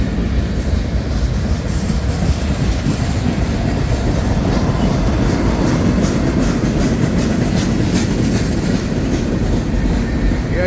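A CSX manifest freight train led by five locomotives with a mid-train DPU rolls past close by, a continuous loud rumble of wagons with wheel squeal and faint clickety-clack throughout.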